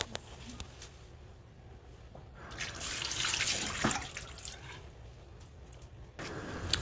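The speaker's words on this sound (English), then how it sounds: "Here, I just make sure to rinse out the shampoo." Lukewarm water rinses shampoo out of locs, a steady hissing stream that swells louder midway with splashing, then eases back, close and alone.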